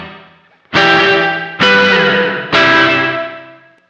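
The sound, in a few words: reverb pedal with feedback turned down, smaller reverb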